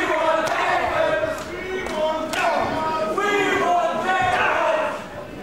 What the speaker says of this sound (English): The crowd chanting for tables.